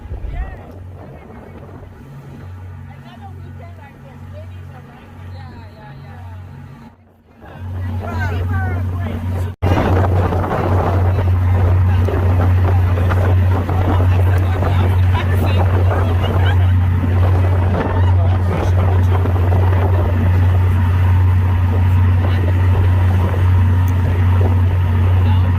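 A ferry heading to Peaks Island carries its passengers over open water. A quieter stretch gives way to a loud, steady engine drone and rushing water that continue unbroken, heard close up.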